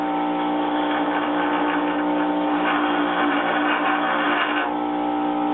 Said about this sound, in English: I'm going to give the wheel a quick dressing here